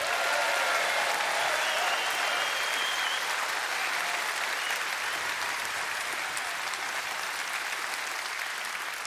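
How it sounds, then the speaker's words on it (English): Sustained applause from a large party conference audience at a Reform UK event, steady and dense throughout, gradually thinning slightly toward the end with faint crowd noise. "Give Richard a round of applause."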